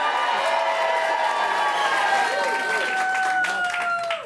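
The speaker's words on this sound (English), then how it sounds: "give us a cheer now" Studio audience at a game show cheering and clapping, a loud sustained roar with whoops that swells and holds, sliding tones and a host's voice faintly mixed in before it trails off.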